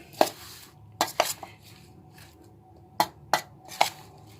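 A spoon clinks against a bowl while creamy fruit chaat is mixed, giving about six sharp, close taps in an uneven rhythm with quiet gaps between them and no voices.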